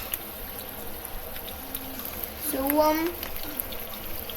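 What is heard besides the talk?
hot water being poured into a pot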